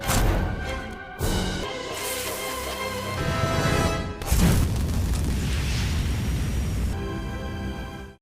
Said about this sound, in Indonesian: Mereka pun kemudian pergi dengan menyalakan sebuah petasan